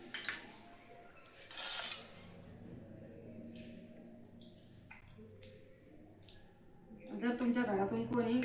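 Potatoes being cut into small pieces for homemade samosas, with scattered knife taps and light scraping on a board in a home kitchen, mixed with dish clatter while someone talks.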